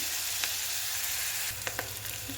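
Two large onions fry in a pan, giving a steady close sizzle with a few soft stirring clicks and scrapes and no voices.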